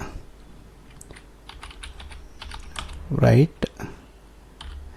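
Fingers tap on a computer keyboard while code is written in an editor, sparse clicks and a louder keystroke cluster near the middle, close by, with a voice speaking throughout.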